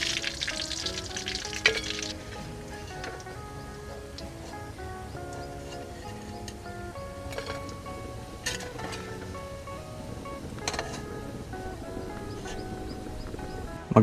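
Frozen Japanese siomai fry in a pan with a steady, dense sizzle that runs throughout, close up, with occasional small clinks and pops from stirring and no one talking.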